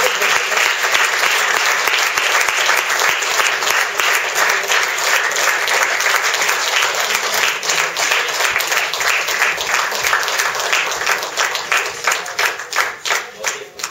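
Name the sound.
applause for mentor of the year award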